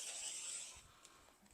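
Scissors or a rotary cutter slicing through a fabric quilt piece down the middle, a soft continuous rasping cut with no talking, faint and close.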